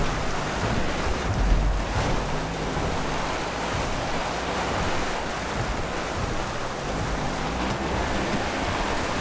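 Rain falling in the GTA 5 video game, a steady broad wash of noise like heavy downpour with wind, continuous and fairly loud throughout, no talk heard.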